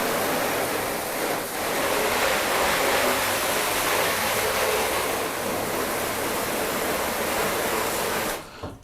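A pressure washer sprays a steady, loud, close hiss of water rinsing soap off an Audi RS3, running continuously before cutting off at the end, with no talking.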